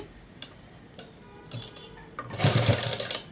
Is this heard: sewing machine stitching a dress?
yes